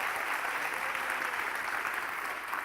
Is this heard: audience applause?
yes